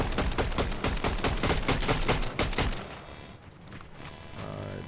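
Rapid bursts of gunfire from the Fortnite video game, a dense run of shots for about three seconds, then quieter game sounds with a few distant pops, with speech in the mix.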